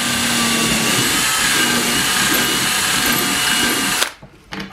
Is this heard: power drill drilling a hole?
yes